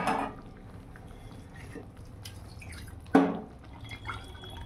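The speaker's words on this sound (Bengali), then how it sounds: "একটু গরম জল দিয়ে কুকারটা ধুয়ে দিয়ে দিই।" A pressure cooker is rinsed with hot water in a home kitchen, with faint drips and trickles, a sharper clatter of metal and splashing midway, and light handling noises around it.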